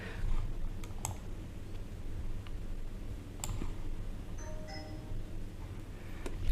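Sharp, sparse computer mouse clicks sound close up as the Generate button is pressed in NX CAM software, set against a quiet low room hum.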